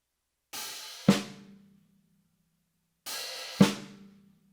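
Drum kit playing beat two of a groove: an opening hi-hat wash followed by a sharp snare hit, repeated twice with a pause between, close and clear with no talking.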